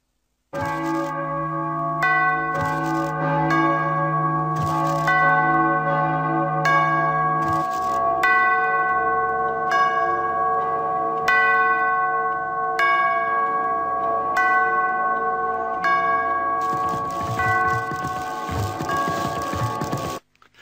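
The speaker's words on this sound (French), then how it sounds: "Après avoir fait sonner les cloches, les horloges des clochers vont annoncer les heures du matin, de midi et du soir." Church bells in a clock-tower steeple ring out a loud, close series of about a dozen strikes over twenty seconds, each stroke leaving a long, shimmering decay that overlaps the next, with no one talking.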